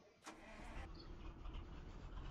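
A truck engine starting in The Slaverian Trucker video game, a quick cranking burst that catches into a steady rumbling idle, fairly quiet and with no one talking over it.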